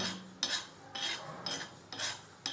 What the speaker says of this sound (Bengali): দিয়ে এগুলো ভালো করে আমি কড়াইয়ের মধ্যে নেড়ে নেব